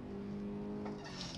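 Race car on a timed lap, engine holding a steady loud tone under throttle before a brief surge of noise near the end as the revs change, heard close and alone.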